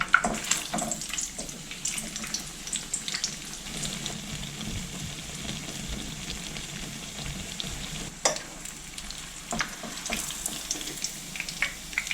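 Steady sizzling of dough frying in hot oil, a constant crackle with occasional sharper pops and a few clinks, no talking.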